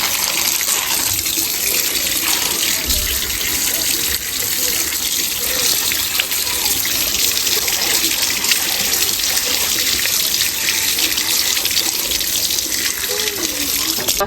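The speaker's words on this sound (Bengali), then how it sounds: "এবার মাছটাকে ধুয়ে নেব।" Running tap water pouring steadily and loudly as hilsa fish is washed in a kitchen sink, a continuous close gush with slight splashing changes and no talk.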